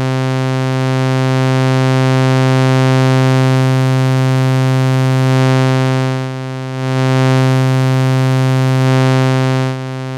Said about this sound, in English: it creates a sort of saturated, distorted style effect as it's overdriving our audio signal into the filter